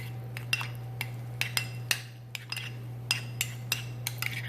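A spoon stirs chopped garlic into plain skyr in a bowl, giving a series of light, sharp clinks at irregular intervals over a steady low hum, with no talking.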